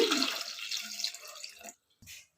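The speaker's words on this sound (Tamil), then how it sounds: "தண்ணி ஊற்றி" Water pours into a pot for boiling potatoes, a close, splashing stream that runs steadily then stops, followed by a brief final splash.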